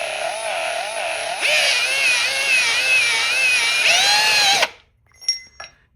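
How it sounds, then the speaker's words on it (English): A power drill with a countersink bit bores a hole in part of a Ghostbusters 2 trap prop, a close, whining, wavering motor tone that speeds up midway, then stops abruptly, followed by faint clicks. "you're going to get your drill bit with this drill bit right here. It's a countersink drill bit"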